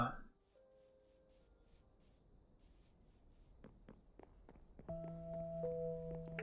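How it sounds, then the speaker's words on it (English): Crickets chirp steadily at night in a thin, high, continuous trill, faint and distant, joined later by a few soft taps and a tonal game sound. "Crickets say it's bedtime"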